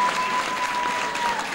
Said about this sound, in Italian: Facciamo un applauso alle future spose che ci credono ancora